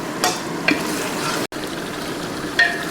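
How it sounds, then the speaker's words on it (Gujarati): Chopped onion sizzling in hot peanut oil with ginger, chili and garlic paste, a steady close frying hiss broken by three or four brief scraping stirs of a spoon, no talking. "હવે ડુંગળી પાકી દઈએ, તેમાં આપણે નાખશું આદુ, મરચાં અને લસણની પેસ્ટ."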